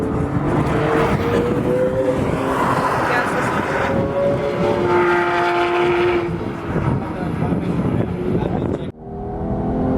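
Porsche GT3 supercar on a fast track lap at Exotics Racing in Las Vegas, with loud, continuous engine roar and shifting revs inside the car and a brief dip near the end, plus some talking.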